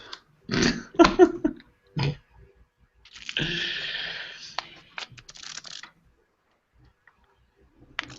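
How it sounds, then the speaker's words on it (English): A few sharp taps and clicks, then a quick fluttering riffle of playing cards being shuffled close by, followed by quiet. "Who is shuffling cards?"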